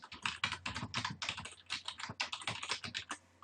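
Rapid, irregular keystrokes on a computer keyboard, close and fairly quiet, with no talking.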